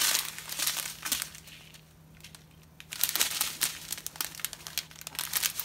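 Plastic bags holding diamond painting drills crinkle and rustle close up in steady, textured bursts, with a short quieter pause midway before the handling resumes more loudly.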